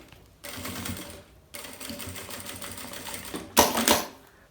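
A sewing machine stitches the bellows and lining of a vanity bag in three bursts of rapid, mechanical whirring. Each burst is separated by brief pauses, and the last is the loudest.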